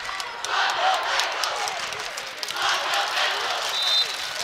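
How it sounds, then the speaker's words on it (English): Crowd noise swells twice from the student section at a girls' high school state volleyball match between Champlin Park and Lakeville South, a steady roar of cheering and clapping with shouts rising and falling across the gym. "Here's some raucous student applause back and forth today."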